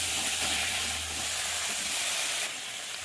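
Boiled jackfruit tossed into hot frying masala gives a steady, loud sizzle and hiss throughout, easing slightly toward the end, with no voices.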